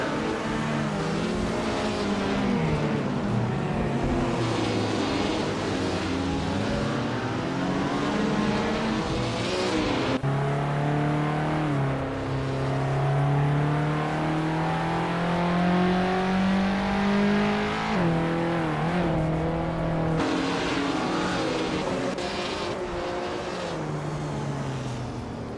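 Racing cars, among them a Ferrari 250 Testarossa, roar through a race with steady engine drone and rising, falling revs as gears shift, loud and continuous, several engines layered with no talk.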